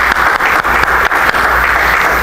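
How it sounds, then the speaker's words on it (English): A church congregation claps together in praise, a dense steady wash of hand claps sustained throughout with brief dips, close and loud, no voices. "Let's give God a hand clap of praise."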